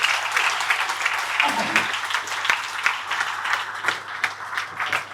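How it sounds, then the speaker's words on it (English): Staff at a monthly company meeting clap for a colleague, brisk close-up clapping with audible individual hand strikes over a room of applause, with some chatter mixed in. "he deserves all of the claps that we're going to give him"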